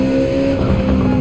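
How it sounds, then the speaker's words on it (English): Race car in Gran Turismo braking and downshifting, a loud steady engine drone with a rising, shifting tone through the short stretch, close and continuous, without any voice over it. "Braking, and downshift."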